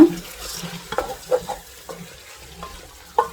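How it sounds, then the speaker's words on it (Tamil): Chicken meat simmers in a covered pot for Jaffna-style chicken pukkai, giving a low, soft bubbling with a few sharp clinks scattered through it and no talking. "இந்த இறைச்சி அவிஞ்சிட்டு இருக்குது"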